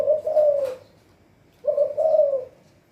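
Two soft, mellow spotted dove coos, each lasting under a second, separated by a short pause; fairly close and clear with no other sounds.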